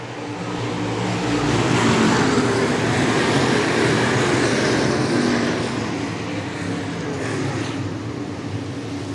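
Stock cars race on a clay dirt track, with a dense, steady roar of engines accelerating that stays loud and close throughout, no talk heard.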